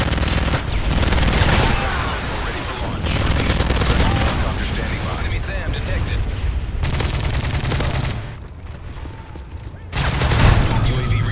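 Rapid automatic gunfire in the 2011 Modern Warfare 3 multiplayer, dense bursts of shots in several long stretches with short pauses, loud and close, with a player talking over parts of it.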